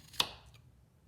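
A single sharp knife chop cuts a carrot into a small disc on a board, one crisp near impact followed by a faint second tap, with quiet room tone otherwise.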